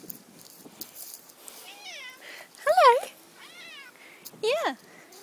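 Neighbourhood cats give several rising and falling meows, two of them louder and nearer, spread over a few seconds while a person briefly speaks between them.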